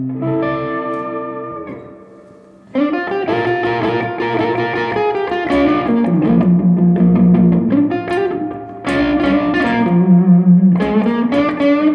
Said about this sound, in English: it sounds so nice with overdrive on as well